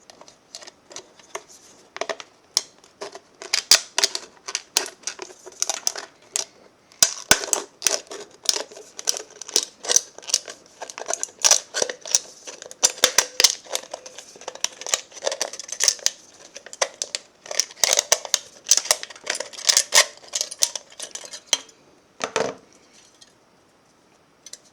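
Scissors snip through thin tin can metal for earrings, a close, steady run of sharp crisp cuts with brief pauses, ending in a louder clatter.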